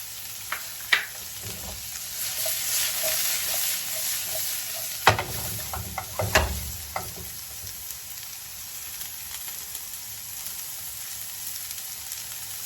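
Spring onions fry in a hot pan for Mediterranean-style confit lamb shoulder, giving a steady, close sizzle with a few sharp stirring knocks and scrapes midway, then settling into an even hiss.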